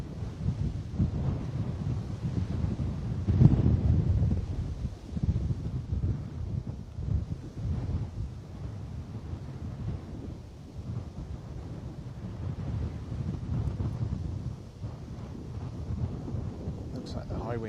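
Strong gusting wind buffets the microphone at an airport as a high-wing Blue Islands aircraft comes in to land, a steady low roar with surging gusts and no clear engine sound standing out.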